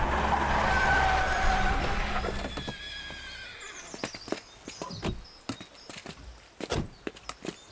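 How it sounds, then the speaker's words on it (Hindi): Several horses clip-clop with sharp, irregular hoof knocks close by after a vehicle rumble and engine drone fade out, the hooves scattered and uneven on hard ground. "यहाँ इतने सारे घोड़े क्यों हैं?"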